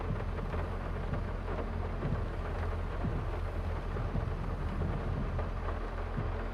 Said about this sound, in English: tried to avoid the rain, but it's here.